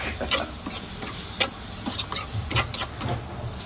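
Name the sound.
sautéing ingredients for ginataang manok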